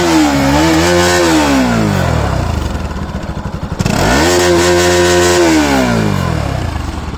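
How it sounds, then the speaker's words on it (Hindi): A Bajaj Pulsar NS200 BS4 on its stock under-belly exhaust revs hard twice, each loud, close blip climbing and falling back to a rough idle between throttle pulls. "तो इसका भी एग्जॉस्ट नोट सुनते हैं।"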